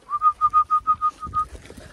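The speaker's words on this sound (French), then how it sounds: "Et quand je les sors, je les siffle." A hunter whistles to call his hunting dogs, a quick run of about nine short, clear, evenly spaced notes, close and loud, ending in faint rustling.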